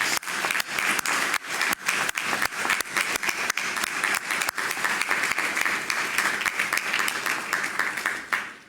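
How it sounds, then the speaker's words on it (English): Sustained, dense applause from an audience at a graduation ceremony for fire and EMS cadets, honoring the instructors; steady clapping at full volume throughout, with no talk over it. "So let's give them a round of applause."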